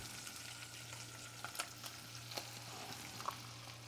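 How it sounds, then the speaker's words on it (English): An egg mixture frying in a pan for a hot dog omelette, a faint steady sizzle with a few soft crackles and utensil taps, quiet and with no talking. "We're going to take and put our egg mixture in."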